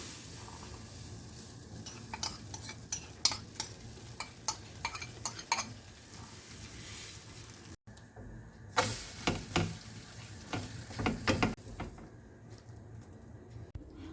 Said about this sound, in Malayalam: ഇതാണ് നമ്മൾ മുട്ട പൊരിക്കാനായിട്ട് പാനിലേക്ക് ഒഴിച്ചു കൊടുക്കുകയാണ്